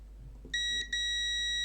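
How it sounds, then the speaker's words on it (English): An electronic device under repair, soldered moments before, gives off a clean, shrill electronic beep: one short tone, a brief break, then a steady sustained tone, loud and close against a quiet bench. "But it is beeping with this."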